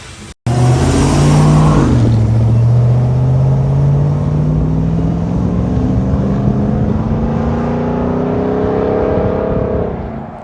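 A supercharged 702 HP 2021 Ram 1500 TRX pickup engine revs up loudly close by, its pitch climbing through a gear change and then drawing out in a long, rising roar.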